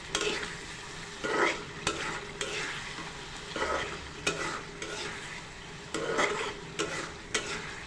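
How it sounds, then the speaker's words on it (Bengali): Spiced masala frying in a covered pan for chicken skin and moong dal curry, steady close sizzle with periodic stirring scrapes and occasional metallic clinks from utensils against the pan. "সামান্য ঢেকে রাখছি মশলাটার সাথে যাতে ভালোভাবে কষানো হয়।"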